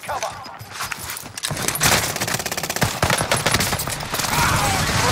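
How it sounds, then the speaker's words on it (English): Dense automatic gunfire from Call of Duty Warzone on Rebirth Island, rapid continuous bursts with sharp cracks and overlapping shots, loud and close throughout. "I killed him with a pistol, Jordan."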